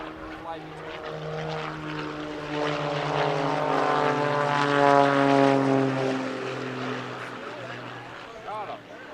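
Pitts S2B aerobatic biplane at an airshow making a very low-level opposition pass, its propeller drone swelling as it approaches, peaking overhead with a pitch drop, then fading away.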